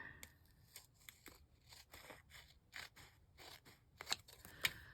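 Scissors snip through paper while crafting hinged window flips. A quiet run of short, crisp cuts grows sharper toward the end, close and alone with no voices.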